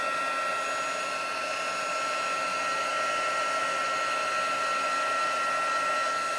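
A heat gun melting embossing powder on a laminated craft mat gives a continuous, even blowing hum with a high tonal whine. The sound holds steady throughout and has no speech over it.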